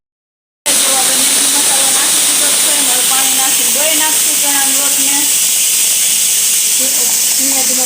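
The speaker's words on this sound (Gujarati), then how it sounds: "કુકરમાં સીટી ઉપર સીટી ક્યારની વાગે છે" A kitchen pressure cooker vents steam while potatoes boil for bread pakoras, giving a loud, continuous rushing hiss that starts abruptly and holds steady throughout, with a voice faintly audible beneath it.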